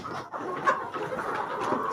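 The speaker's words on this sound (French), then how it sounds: "Dans mes mains, c'est ce qu'on appelle une poule pondeuse. Une Isa Brown de 4 mois d'élevage." A four-month-old Isa Brown laying hen held in the hands gives short, soft clucks in quick succession, close and alone.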